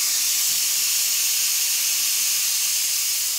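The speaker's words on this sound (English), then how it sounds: "the screen itself is showing that is releasing the steam" A Sage Fast Slow Pro pressure cooker vents steam in a loud, steady, continuous hiss that holds without a break.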